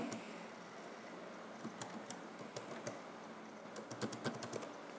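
Keys clatter on a computer keyboard as a number is typed in, faint and close, in uneven bursts of clicks that grow busier toward the end, with no talk.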